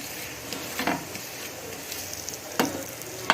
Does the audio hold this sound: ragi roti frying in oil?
yes